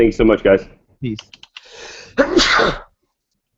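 A single loud sneeze bursts out after a brief spoken sign-off on a talk radio call, close to the mic, followed by a short tail of breathy noise.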